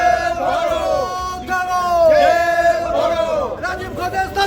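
A crowd at a courthouse chants a 'chor chor' (thief) slogan in loud, rhythmic unison, voices rising and falling together in repeated waves.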